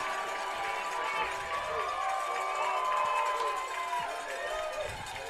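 A high school football crowd stands in the stands at Vincennes Lincoln, a steady roar of voices and shouts from the sideline, with cheering swells and scattered calls.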